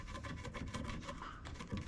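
A pencil drags across a wooden board to mark a line, a soft repeated scratchy rubbing in quick strokes, close and quiet.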